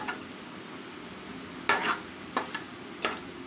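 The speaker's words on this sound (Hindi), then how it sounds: "प्याज अंदर डाल दिए हैं, इसके घी के अंदर डाल दिया प्याज।" Chopped onions fry in hot ghee with a steady sizzling hiss, interrupted by several bright scraping strokes of a spoon stirring them around the pan.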